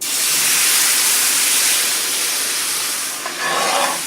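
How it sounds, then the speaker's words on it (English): Loud, broad steam hiss as milk and tomato juice are poured into a hot pan, strong at first and slowly easing, with bubbling sputters toward the end. "Watch that steam, because that steam is very hot."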